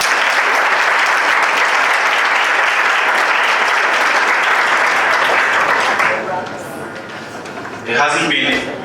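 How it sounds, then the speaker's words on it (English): An audience at the opening ceremony of the 2019 Togo National Debate Championships gives a loud, sustained round of applause that fades after about six seconds, followed by a brief voice near the end. "So I am going to ask you to have a very big round of applause for them."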